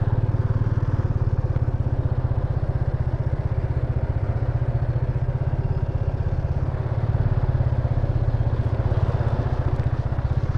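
A motorcycle engine idles steadily up close, a continuous low rumble with rapid rhythmic pulsing that holds throughout.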